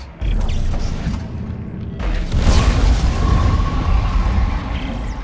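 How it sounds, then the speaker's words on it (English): An overheated trichloride canister blowing up in Dead Space 2, a loud low boom that swells after a brief lead-in and rumbles on as sustained heavy noise, with no talking. "And trichloride. Those explode if they overheat."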